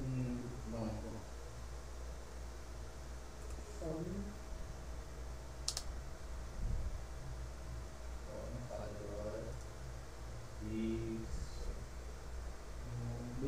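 Computer keyboard keys clicking in quick, uneven bursts during a CakePHP and AngularJS coding session, with a faint voice murmuring in the background.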